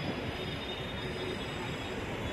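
A train rumbles with a steady, broad roar at Churchgate station at night, heard from on board or close by, with a thin high whine running over it and no clear speech.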